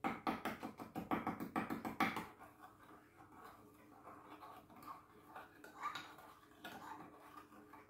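Homemade laundry detergent stirred in a container: a quick run of rhythmic, close scraping and clinking strokes for about two seconds, then fading into quieter, sparse knocks and a faint background hum.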